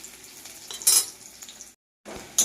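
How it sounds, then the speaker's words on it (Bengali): Onions frying in a pan give a close, soft sizzle broken by a few sharp utensil scrapes and clinks, a short silent gap, then a final stir. "দেখো, পেঁয়াজটা ভালোভাবে ভাজা হয়ে গেছে"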